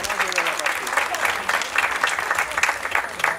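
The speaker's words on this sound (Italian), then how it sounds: "Quindi un applauso veramente caloroso anche ad Antonella Nigro." Warm applause from the audience at a painting competition awards evening in Rutino, steady and dense clapping filling the whole moment without pause.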